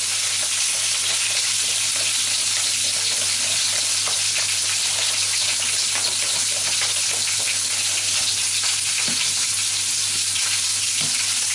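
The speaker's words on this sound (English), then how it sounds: "And the sausages, I'm browning them on all sides." Sausages browning in a hot pan while making mini toad in the holes, a steady loud sizzle and crackle of frying fat that continues throughout with no talking.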